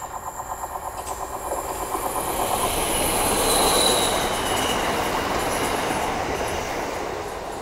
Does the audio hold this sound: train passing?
yes